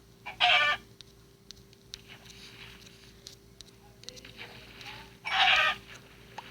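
Two short bursts of chicken clucking from a video game, a few seconds apart, stand out over a quiet background with a faint steady hum.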